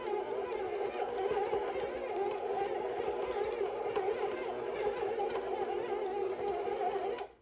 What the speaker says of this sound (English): I'm going to mix this a little longer to mix in the unmixed dry ingredients.